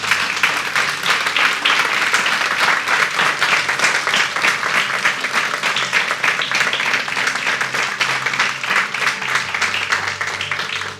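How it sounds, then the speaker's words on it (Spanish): A church congregation applauds loudly and steadily, a dense wash of many hands clapping that holds for several seconds before tapering off at the end. "Denle un lindo aplauso a nuestro Señor"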